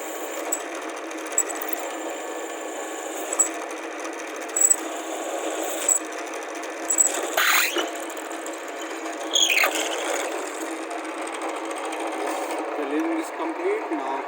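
A drilling machine in a fitting shop bores slowly through a metal workpiece cooled with water or coolant, giving a steady close mechanical whir with scattered clicks and scraping bursts that runs the whole time without letting up.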